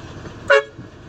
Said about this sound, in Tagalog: Tapos busina niya.